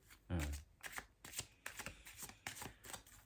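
Tarot cards are shuffled close up in a series of quick riffling swishes and taps, repeated rhythmically at a soft level.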